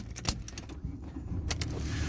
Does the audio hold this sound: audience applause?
no